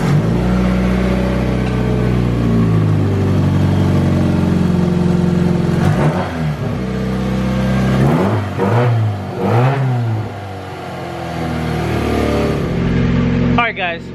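A Mitsubishi Lancer Evolution X engine runs loud and close, idling steadily, then rising and falling through several quick revs before dropping off abruptly at the end.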